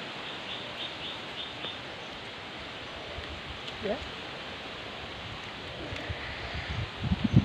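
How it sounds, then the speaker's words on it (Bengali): Strong wind after rain in a village road blows as a steady broadband rush with rustling, some faint bird calls and brief sounds near the end. "বাতাসটা দেখুন কত জোরে হয়েছে।"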